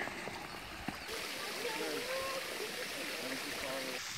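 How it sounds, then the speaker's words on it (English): A small upper cascade of Grotto Falls, about 30 feet high, sends water rushing over rocks in a steady, broad hiss on a green mountain trail, with people talking over the flow. "It's little upper falls to the Grotto Falls, about 30 feet."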